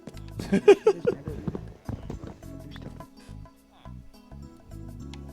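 A Minecraft horse's hooves clip-clop in a quick irregular trot with a soft snort, loudest early on and fading to lighter steps.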